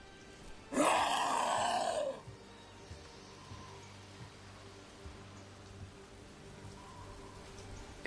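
Rain falls in the video game Dragon Age: The Veilguard as a soft, steady hiss throughout, with a loud groaning burst near the start.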